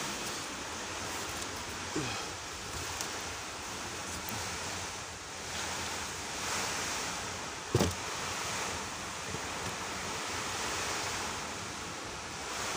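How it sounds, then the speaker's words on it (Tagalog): Floodwater from a typhoon rushes steadily and continuously into a house, with a broad hiss of water and gusty storm noise and no clear voices. "Baha na po dito sa loob ng bahay ko."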